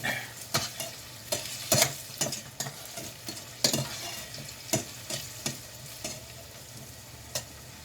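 Vegetables brown in a pan for lentil soup, with a soft continuous sizzle broken by irregular sharp utensil scrapes and taps, close and without talking.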